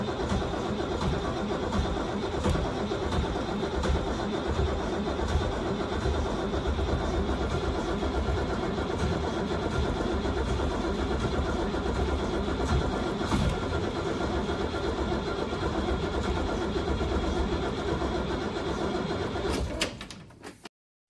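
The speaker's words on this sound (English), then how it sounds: "let me hear that engine roar." A school bus engine cranks and churns continuously in a loud, rumbling drone, close by, then cuts off abruptly at the end.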